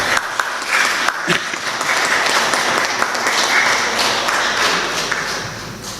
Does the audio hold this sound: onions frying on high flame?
no